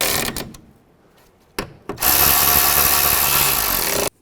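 Radiator screws on a 2005-10 Volkswagen Jetta are driven in with a power tool: two short whirring bursts, then a longer continuous close buzz as the screw snugs down, stopping abruptly.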